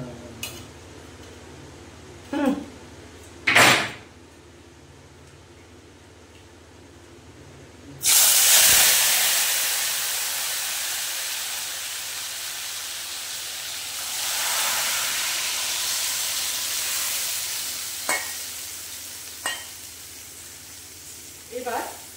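Marinated chicken with yogurt hits hot oil in a wok and bursts into a loud, sudden hiss that settles into a steady sizzle, after a few sharp clinks of utensils. A voice talks over the frying.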